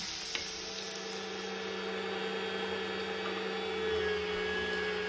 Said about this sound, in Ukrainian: На гарячу сковорідку викладаємо 50 г вершкового масла і одну цибулинку